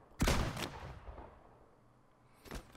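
Gunshots in the mobile shooter FRAG Pro Shooter ring out close and loud, a sharp pair at the start followed by a lighter shot near the end, with quiet gaps between.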